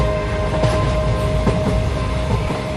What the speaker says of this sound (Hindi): ट्रेन चलने लगी मम्मी